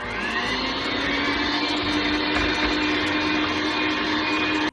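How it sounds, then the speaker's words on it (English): A homemade applesauce batter is beaten with an electric mixer, its motor giving a loud, steady whirring drone for several seconds before cutting off abruptly at the end. "we're gonna mix that up with our mixer here too"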